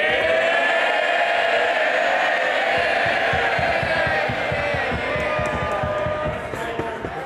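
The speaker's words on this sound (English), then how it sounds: "Cheer him by all means, but don't damage." Members of Parliament cheer in the House of Commons during Prime Minister's Questions, a dense, continuous roar of many voices with rhythmic thumping running beneath it.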